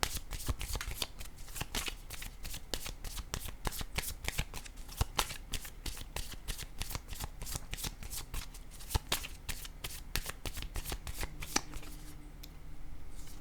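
A deck of cards being shuffled, heard up close as quick, crisp rhythmic riffling snaps that repeat steadily, with a soft rustle near the end.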